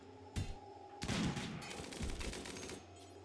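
Colonists in the video game RimWorld fire on a ship: a single shot, then a dense rattling volley of overlapping gunfire that keeps going for about two seconds before fading.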